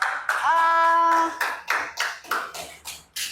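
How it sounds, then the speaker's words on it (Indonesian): A small class of students claps in a classroom during a religious education lesson, a run of sharp separate hand claps close by with a brief voice tone at the start, fading out into a few scattered final claps. "tepuk tangan dulu"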